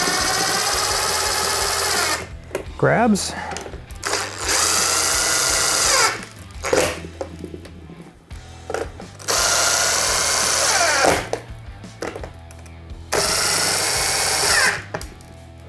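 Power drill boring mounting holes while installing Klipsch CDT-5800-C II in-ceiling speakers, running in several loud sustained bursts with short pauses and rising and falling motor pitch between them.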